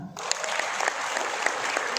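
An audience at a health seminar breaks into applause, quickly rising into a steady, even patter of clapping that fills the room.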